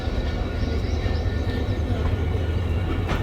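Locomotive A204 stands coupled to the 38 Down Fareed Express, producing a heavy, steady low diesel rumble close by that fills the scene without pause.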